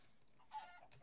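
A Minecraft chicken gives a short, quiet cluck, a single brief squawk in a faint game scene with no talking.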